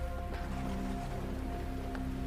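Steady rain falls on a rainy night, a continuous hiss of drops with a low sustained hum beneath it and no voices.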